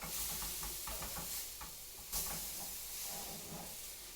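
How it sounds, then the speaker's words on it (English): Steady sizzling hiss of banana and oat pancakes frying in a pan, with faint scraping and clinks over the top and a brief louder burst midway. "Back to the frying pan, flip these over,"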